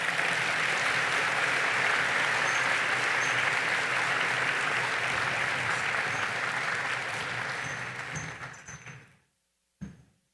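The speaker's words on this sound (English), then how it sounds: "So please, let's give a round of applause for our good friend, Dr. Michael Barratt." Audience applause for an astronaut speaker at a NASA Human Research Program event, a loud, sustained roar of clapping that fades out near the end, followed by a brief thump and silence.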